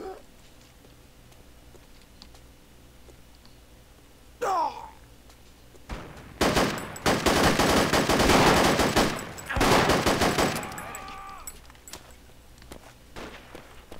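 Bursts of loud automatic gunfire in the tactical shooter Project Reality, starting after a quiet stretch with a brief whistling sound, two heavy volleys close by, then quieter ambience.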